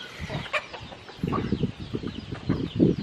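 Backyard chickens cluck in short, irregular bursts nearby at a house construction site, with scattered soft calls between them and no speech.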